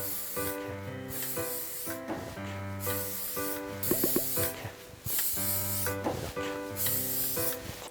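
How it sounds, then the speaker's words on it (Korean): Anti-static hair spray misted over dry hair in a series of short hissing bursts, close and fairly loud, with brief pauses between sprays. "전체적으로 이렇게 한 번씩 다 뿌려주세요."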